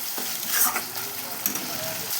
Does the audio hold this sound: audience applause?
no